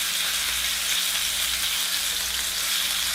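Pork pieces brown in a hot pan, a steady, close, bright sizzle and crackle running continuously with no talk.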